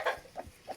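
A chicken gives a few short, soft clucks spaced out over a brief moment, close and alone.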